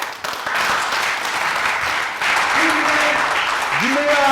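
A TV studio audience on a Burkina Faso entertainment show applauds a zouglou artist, loud, dense clapping that carries through the clip beneath a speaking voice, with a musical tone rising near the end.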